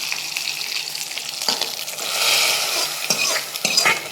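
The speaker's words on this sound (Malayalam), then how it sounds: "ഇതിലേക്ക് നമ്മുടെ കടുവും കറിവേപ്പിലയും വറുത്തിടുന്നുണ്ട്" Mustard seeds and curry leaves fry in hot oil for a prawn curry with raw mango, giving a steady close sizzle broken by sharp crackles and pops and some stirring.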